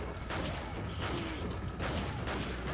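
Gunfire in Resident Evil 4 rings out as a series of sharp shots at regular intervals over a constant background rumble from the game.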